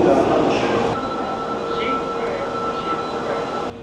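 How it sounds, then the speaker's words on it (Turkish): A subway train ride in Japan: a steady, close rumble and hum inside the moving car with a slight drop partway, and faint voices in the background. "Japonya'da metrolar çok sessiz arkadaşlar."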